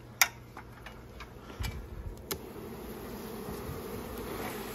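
Faint, steady buzzing of honeybees around a hive box during a honey harvest, with a few soft clicks and knocks of wooden equipment, quiet and with no talking.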